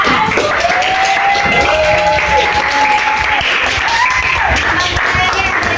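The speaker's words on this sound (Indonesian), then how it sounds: "Terima kasih aplaus yang meriah sekali lagi untuk kelompok 3" Audience applause for a group presentation at a teacher training session in Indonesia: dense, steady clapping from a roomful of people fills the clip, with a voice speaking over it.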